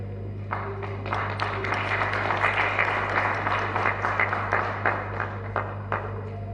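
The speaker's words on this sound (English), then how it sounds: "another round of applause for the Honorable" An audience claps at the 14th graduation ceremony of Uganda Institute of Information and Communications Technology, a dense, sustained round of applause from a large crowd in a hall, with a low electrical hum underneath.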